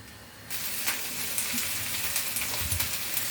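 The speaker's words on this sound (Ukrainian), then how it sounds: "обсмажимо цибульку і продовжимо" Onions sizzle and fry in a pan as the base of a gravy with chicken and mushrooms, a steady crackling hiss that starts suddenly and keeps going with small pops.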